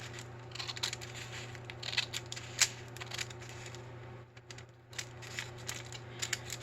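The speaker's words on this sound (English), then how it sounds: "I'm gonna cut the envelope open on 3 sides." Paper envelope being cut open along its sides with scissors, soft snipping and rustling crackles over a steady low hum, faint and close.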